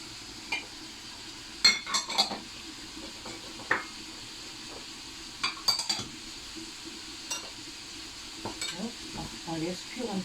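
A pot of dombré with red beans cooks on the stove, a soft background simmer broken by scattered clinks and scrapes of a utensil stirring against the pot.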